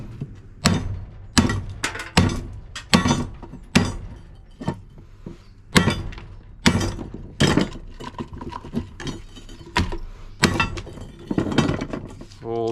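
Hammer blows smash apart a dishwasher being stripped for scrap metal, a run of sharp, loud metallic and glassy impacts in an irregular rhythm, close up, with a few clinks between strikes.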